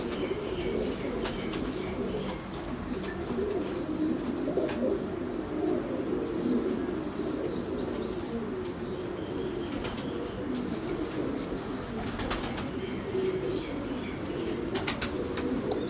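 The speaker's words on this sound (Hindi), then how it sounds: "बहुत शानदार कबूतर है।" Pigeons coo continuously in a low, throaty chorus close by, with repeated bursts of wing flapping and occasional sharp chirps over a busy loft background.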